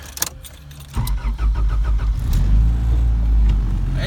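Turbocharged Honda B20 engine pulls hard in a car, a brief burst of revving giving way at about one second to a loud, sustained droning acceleration that holds steady to the end, close and dominant with no talk.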